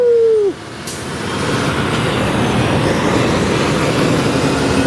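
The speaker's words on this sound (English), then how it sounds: "It's like a zillion cars driving around here." Steady roar of traffic through a Los Angeles neighborhood, with a brief hiss like an air brake near the start and continuous vehicle rumble filling the rest, moderately loud.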